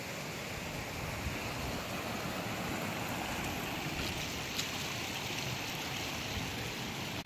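A stream flows near where the Yammeng and Hibeng rivers join on a forest trek, giving a steady, even rush of running water that holds level throughout with light wind buffeting and no voices.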